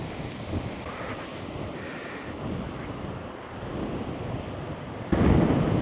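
Strong wind in Glencoe, Scotland, buffets and roars steadily, rumbling against the microphone, growing louder in a sudden gust near the end.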